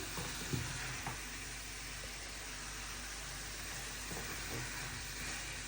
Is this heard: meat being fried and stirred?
yes